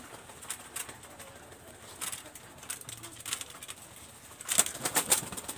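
Pigeons of a red-eyed fancy breed coo softly at close range, then give a couple of quick bursts of wing flapping near the end, with faint rustling in between.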